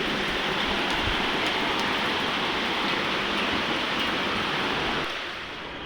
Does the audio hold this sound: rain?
yes